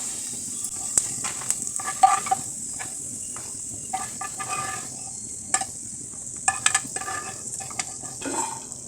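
Ridge gourd and other vegetables fry in a pan with a faint, steady sizzle, broken by scattered spatters and close scraping stirs over several seconds, with no talking.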